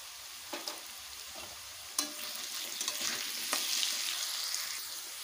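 Paneer frying in a pan with salt and turmeric, a quiet hissing sizzle that swells toward the end, punctuated by a few sharp spatula knocks and scrapes, close up with no voices.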